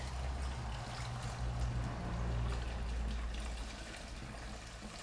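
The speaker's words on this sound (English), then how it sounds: "And we're going to drain this fuel tank now." Fuel drains out of a Suzuki DRZ400E motorcycle fuel tank in a steady liquid trickle and pour that runs for the whole stretch, with a low rumble underneath and no talking.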